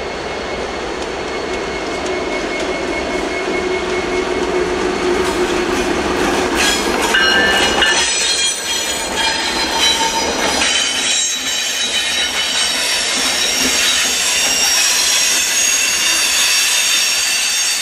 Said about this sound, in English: as the U-60 coasts west, with coke loads